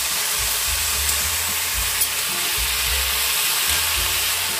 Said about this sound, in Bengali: আলু আর বেগুনটাকে পাতলা পাতলা করে কেটে নিয়েছে, আর এখানে রাঁধুনি আর তেজপাতা ফোড়ন দেওয়া হয়েছে, দিয়ে নুন দিয়ে এভাবে নাড়াচাড়া করছে